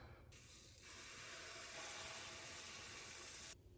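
Waffle batter sizzles steadily on a hot, well-greased waffle press, a loud broadband hiss that swells in after a quiet start, holds constant for about three seconds, then cuts off abruptly.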